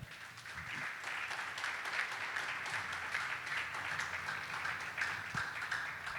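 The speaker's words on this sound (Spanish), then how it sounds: "¿Cuántos le pueden dar un aplauso al Señor?" Church congregation clapping for the Lord during a sermon, a continuous, moderately quiet wash of many hands that rises early and holds steady without anyone speaking.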